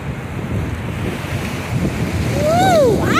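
Ocean surf and strong wind buffet the microphone on Folly Beach, a steady roar that builds toward the end, where a voice rises briefly over it.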